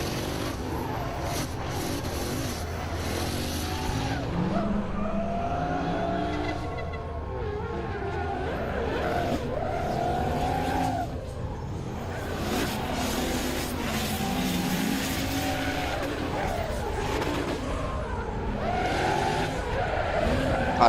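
Drift car tires screech and squeal continuously on a race track over a roaring engine, with a commentator's voice faintly mixed in at times.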